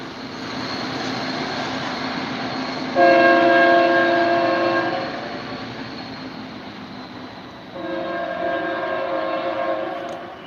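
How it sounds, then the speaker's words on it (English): A freight train locomotive drones steadily nearby, with two long, loud tonal horn blasts rising over the rumble and then fading back as its turbo spools down. "Oh, I hear the turbo spooling down."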